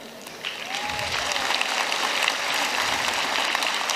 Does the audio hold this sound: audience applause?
yes